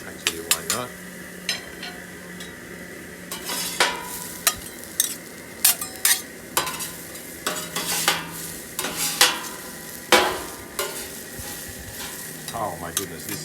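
Minced garlic is stirred in a hot pan beside beef chuck steak, a continuous sizzle broken by frequent loud utensil scrapes and clacks in an uneven rhythm.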